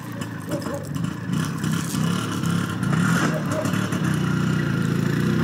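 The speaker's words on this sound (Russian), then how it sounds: "Ой, зимой на мотоцикле." A motorcycle ridden in winter near Khabarovsk hums with a steady mid-pitched engine drone that swells slightly as it goes, heard fairly close with a clattering edge and no clear voices.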